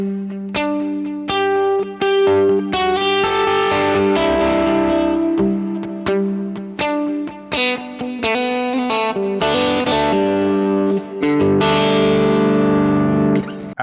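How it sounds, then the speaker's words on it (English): Electric guitar with heavy drive running through a stereo tape delay set to ping pong, playing loud sustained chords and single notes whose repeats bounce back and forth, with continuous dense tone and no talking. "my main delay is a stereo tape delay,"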